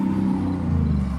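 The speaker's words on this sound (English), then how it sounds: "I know y'all hear those loud cars" Loud cars passing outside near a parked van, a heavy low engine rumble that stays steady and close across the short stretch, with no voices.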